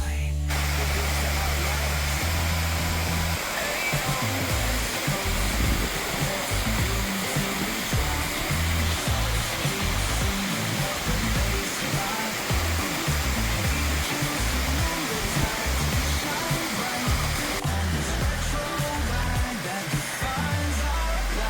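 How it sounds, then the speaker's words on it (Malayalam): Water spilling down over a dam near Trivandrum at low water level makes a steady, loud, broadband rushing roar that fills the whole stretch without letup. "അവിടെ ഈ വെള്ളം ചെന്ന് താഴോട്ട് വീഴും"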